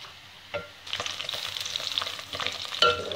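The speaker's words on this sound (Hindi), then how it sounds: "ये मेरे पास 4 अदद प्याज थे, छोटे थे। इन्हें लाइट ब्राउन करना है हमने।" Four small onions frying in oil until light brown, a steady crackling sizzle with occasional stirring scrapes and clinks from the pan.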